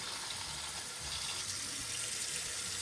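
Cold tap water runs steadily into a sink to rinse raw fish, giving a continuous, even hiss and splash that is close and fairly loud, with no voices.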